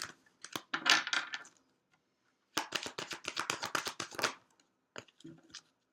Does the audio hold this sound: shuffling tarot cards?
yes